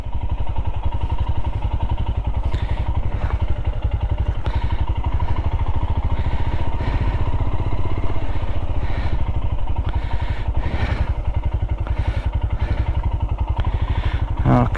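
A Royal Enfield Himalayan motorcycle engine putters with a steady close thumping rhythm, with rattles and clatter over it and a voice speaking at moments.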